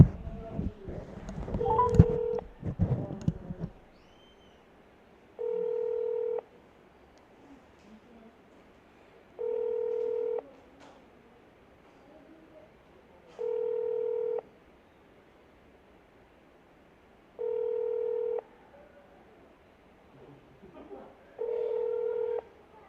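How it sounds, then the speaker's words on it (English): After some brief rustling and handling noise, a telephone call rings back five times in a regular pattern of two-second tones spaced about four seconds apart, clear and steady against near silence. "our phone is ringing now"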